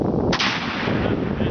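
A single sharp gunshot rings out at a can target outdoors, a loud crack followed by a short fading tail, with no talking.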